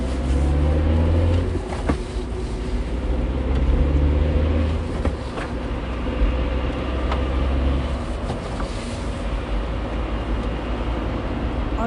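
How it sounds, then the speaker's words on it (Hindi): A car driving away in a hurry, heard as a continuous low engine rumble and road noise, loud and close, with scattered knocks and clicks over the drone. "गाड़ी में घुसते ही उसने तुरंत गाड़ी को शुरू किया और जितना जल्दी हो सके वहाँ से भागने लगा।"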